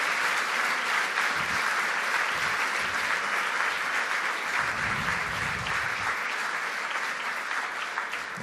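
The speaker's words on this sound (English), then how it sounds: "congratulations. Another round of applause." Sustained applause at a season awards banquet, a large crowd clapping loudly and continuously for the whole stretch, dense and even with a few faint voices mixed in.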